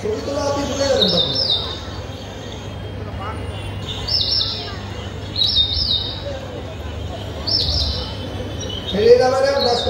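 Red avadavat, also called strawberry finch or red munia, calling in short bright chirps that repeat at irregular gaps of a second or two, close and clear over a person speaking throughout.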